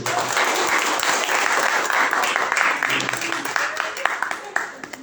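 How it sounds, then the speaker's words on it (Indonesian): An audience at a student academic event applauds, the clapping dense and steady at first, then thinning into scattered individual claps near the end, with faint voices mixed in. "Tepuk tangan dulu."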